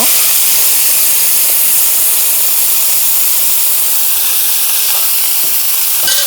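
Rice frying lightly in a pot for a jaggery rice dish, giving a loud, steady hiss of sizzling that continues without a break from start to finish.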